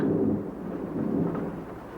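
Cold, driving rain in a wartime trench scene from an old film, a dense low rumbling wash like distant thunder with steady rainfall, continuous and fairly loud.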